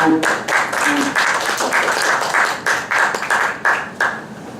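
Scattered audience clapping breaks out between poems at a poetry reading, a short burst of uneven claps that rises and dips for a few seconds.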